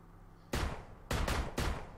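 Three sharp, loud gunshots from the video game PUBG ring out in quick succession, the last two close together, each with a brief reverberant tail and no talking.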